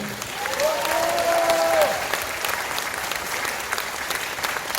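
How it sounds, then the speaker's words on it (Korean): Crowd applause at a ginseng expo launch ceremony in Korea, a steady wash of many hands clapping at moderate level, with a brief whistle-like tone early on and the clapping holding evenly to the end. "큰 박수 한번 해주세요"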